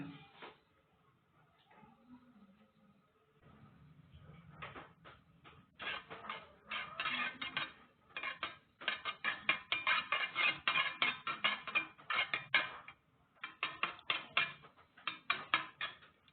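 Eggs with a little salt are beaten with a fork in a bowl: sparse taps at first, then a long run of rapid, close metallic clinks in a quick, steady whisking rhythm.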